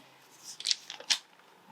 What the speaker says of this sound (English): I can just get in with those scissors and make a perfect cut